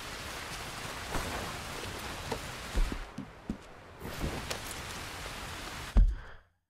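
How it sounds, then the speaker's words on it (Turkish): Steady rain patters throughout in Red Dead Redemption 2, with a few sharper drops and thumps standing out, ending in a loud hit before fading to silence. "Abi neden yağmur yağıyor ya?"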